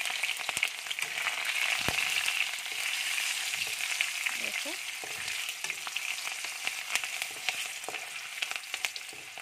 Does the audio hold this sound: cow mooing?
no